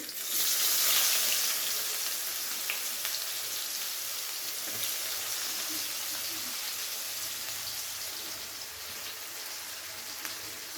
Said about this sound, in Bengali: পেঁয়াজটাকে হালকা ভেজে নেব প্রথমে।